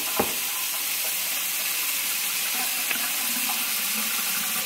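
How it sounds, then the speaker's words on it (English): Running tap water streams steadily into a sink while hands are washed, a continuous broad hiss with a few small splashes and knocks, fairly close, with no talking. "first thing you're going to want to do is wash your hands"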